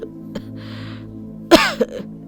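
A bedridden elderly woman coughs in a sudden harsh burst of two or three hacks, close by, after a quiet stretch with a faint steady hum in the room.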